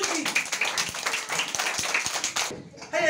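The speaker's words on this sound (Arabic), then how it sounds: "تصفيق حال الطالب عبد المنعم تدنجي." Children in a classroom clap together for a student, a steady burst of rapid applause for a couple of seconds that stops abruptly, with a teacher's voice heard just after.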